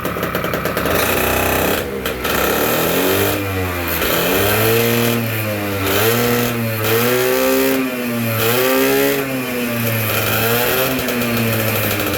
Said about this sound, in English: I'll rev it out because I know everybody wants to hear it rev out